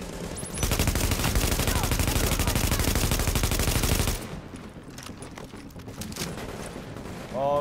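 A long continuous burst of automatic gunfire in The Division, loud and rapid with steady rhythm for several seconds, then cutting off into quieter scattered shots and game noise.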